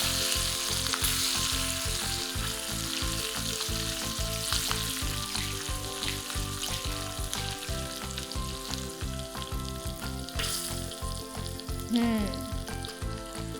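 Hot tempering oil with chillies sizzles and crackles loudly and steadily throughout, a dense, continuous spitting hiss close by.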